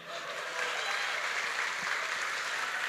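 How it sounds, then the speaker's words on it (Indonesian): An audience at a startup talk claps steadily for a few seconds, a dense even patter at moderate distance with a faint crowd murmur beneath. "Kasih tepuk tangan dulu."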